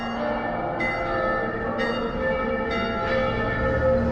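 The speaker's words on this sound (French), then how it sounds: "les cloches ont marqué mon départ vers Arles" Village church bells ring from a stone village at the start of a pilgrimage walk toward Arles, repeated strikes about once a second over a lingering resonant hum, moderately distant and without voices.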